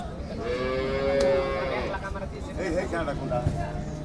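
A cow lets out a long, drawn-out moo nearby, with a second lower bellow later, amid background chatter of people at a cattle market in Gazipur, Bangladesh, during Eid.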